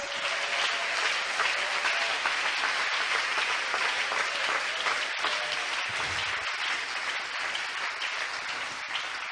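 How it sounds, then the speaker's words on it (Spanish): A church congregation applauds at a Spanish-language service, producing a dense, steady clapping roar that holds loud and unbroken throughout. "dale un aplauso a él en esta hora"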